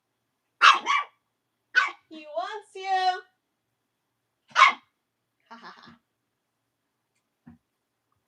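A puppy yaps indoors: a few short, sharp barks, two in quick succession, then a lone bark a few seconds later, with people talking between them.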